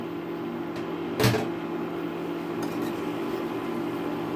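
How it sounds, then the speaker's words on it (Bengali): A lid lifted off a cooking pot of simmering red lentils with potatoes: one brief, close metallic clank over a steady background hum, then the quiet hum continues alone. "ঢাকাটা আমি তুলে দিচ্ছি"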